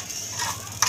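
Ghee tadka for chickpeas sizzles in a pan in a Pakistani village kitchen, a close steady crackle with a sharper spatter at the end, and no talk.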